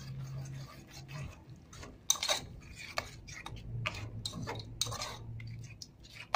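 A utensil stirs cream for a pineapple dessert, giving soft, irregular clicks and scrapes against the bowl, close but faint, with a low background hum.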